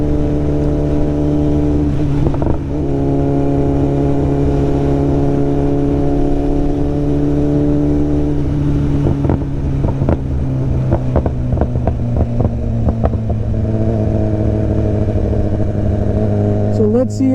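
A BMW S1000RR sport motorcycle is ridden at speed, its steady engine drone holding a constant pitch with a shift partway through. A voice talks over the engine.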